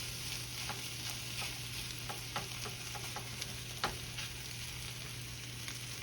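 Corned beef sizzles steadily in a lightly oiled pan, a constant close frying hiss with occasional sharper pops and small scrapes as the meat is turned for hash.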